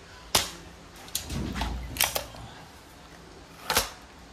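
Crosman Magfire Ultra .177 break-barrel air rifle shots, sharp close cracks at the start and end with softer clicks and handling noises between, no talking.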